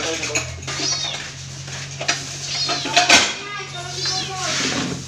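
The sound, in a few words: cat meowing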